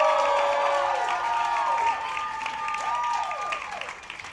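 A live audience applauds and cheers for a performer at an album release play, continuous clapping with whoops and shouts and a sustained musical tone ringing underneath.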